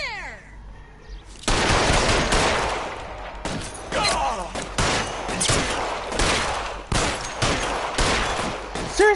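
Heavy gunfire in the LA Noire video game, a dense, loud barrage of shots starting after a quiet opening, with bursts and ricochet-like whines repeating throughout.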